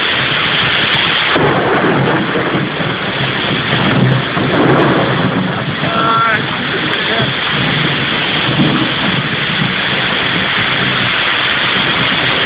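A thunderstorm in Telić brings heavy, steady rain that hisses loudly throughout, with low thunder rumbling underneath.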